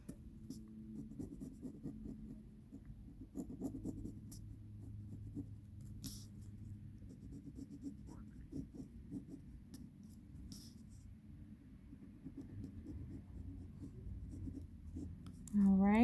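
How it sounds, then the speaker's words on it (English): A pen writes and traces on fabric stabilizer with faint, soft scratching strokes in short bursts, close and quiet, against a low background hum. "Just write a little C there."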